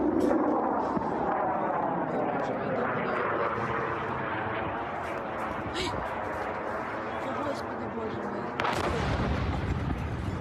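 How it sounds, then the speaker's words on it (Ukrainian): Distant booming and crackling bursts of air defense fire roll continuously during a Russian drone and missile attack on a city, with a sharp explosion near the end, while people talk and move nearby. "Чуєте зараз вони небі звуки ППО"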